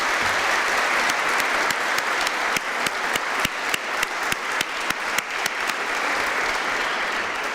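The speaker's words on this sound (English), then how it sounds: "let's give them a really big applause as well" A graduation ceremony crowd gives support students a steady, full round of applause, with a few louder individual claps standing out from the dense clapping throughout.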